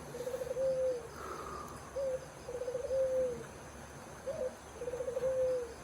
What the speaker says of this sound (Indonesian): Malam-malam ada suara burung.